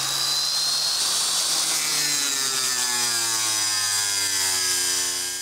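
Power tool cutting through a rusted metal rocker panel on a 1966 Chevy truck, a loud, continuous harsh grinding whine with a slowly falling pitch, close and steady with no talk.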